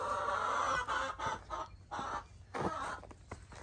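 Chickens cluck in short, uneven bursts that overlap one another, close by and fairly loud, in a straw-bedded chicken coop in winter.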